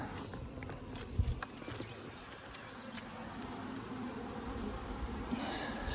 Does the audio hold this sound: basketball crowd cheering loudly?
no